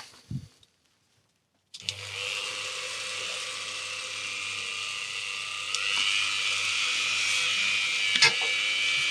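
A Dremel rotary tool starts after a short pause and runs with a steady high-pitched whine on a wooden bowl turned from firewood, rising slightly in pitch partway through, close and continuous.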